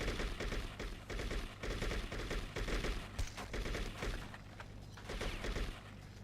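Rapid, continuous gunfire in the True Crime: New York City video game, dense repeated shots with thudding impacts throughout, steady and loud, without any speech.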